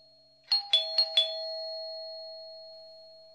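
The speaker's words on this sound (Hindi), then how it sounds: "बाहर घंटी बज रही है, जाके देख गेट पे कौन है।" A doorbell at a home's front gate sounds four quick chime strikes in succession, then a ringing tone lingers and slowly fades in an otherwise quiet room.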